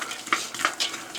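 A spoon stirring vegetables in a pot for spaghetti sauce, a soft continuous scraping under a low simmer, with three or four light clinks against the pot over about a second.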